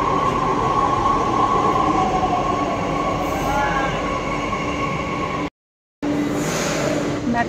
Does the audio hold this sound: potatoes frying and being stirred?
no